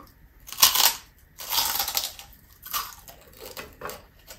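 Crunching bites into crispy Filipino pork chicharon, reheated in an oven and eaten with mung bean stew: several loud, close crackling crunches in separate bursts, with quieter chewing between them.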